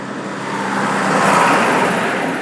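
Traffic on a busy city road heading toward EDSA, with cars passing close by in a continuous broadband roar that swells slightly midway and stays loud throughout.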